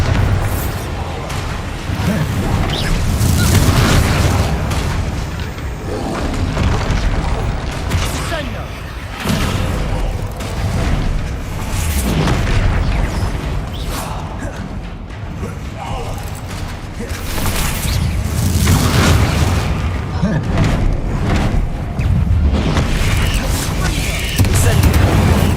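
Repeated Bombarda spell blasts in Hogwarts Legacy during a troll fight, heavy booms and crashing impacts recurring every few seconds over a dense, loud battle din, with a voice shouting throughout.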